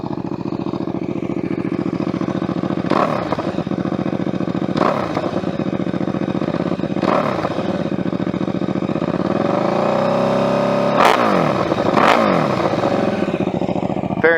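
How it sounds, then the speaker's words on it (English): A 2011 KTM RC8 R sportbike with a full catless Dominator exhaust runs loud and close, with several sharp throttle blips over a rough, steady idle and one longer rising rev. "Very mean sounding bike, very loud bike."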